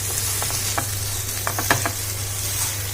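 Banana peels coated in BBQ sauce sizzle in a hot pan, a steady loud frying hiss with several scraping spoon stirs layered on top, close up and without talk.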